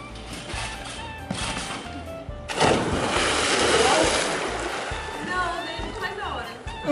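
A person does a flip off a trampoline and lands in a swimming pool with a single loud splash followed by sloshing water, while people talk throughout.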